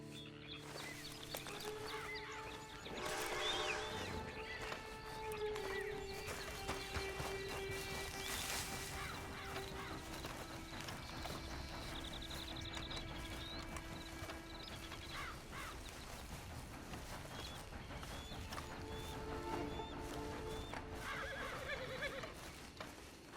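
A horse in the video game Red Dead Redemption 2 whinnies, with a few hoof clops, set against dense, steady game music and ambience that runs through the whole stretch.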